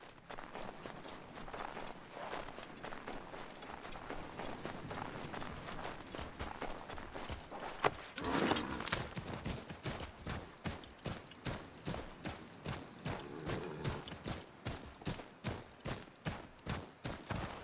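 Hooves of a horse in Assassin's Creed Origins pound in a steady, quickening rhythm, the clip-clop growing louder and more regular as it shifts into a full gallop, alone without speech.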